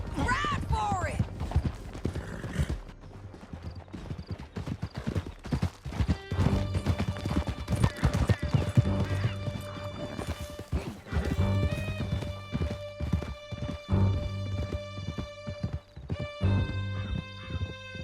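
Horse hoofbeats from a ride through a canyon in the video game Red Dead Redemption 2, a steady galloping clatter running under music and shouted talk, with a whinny near the start.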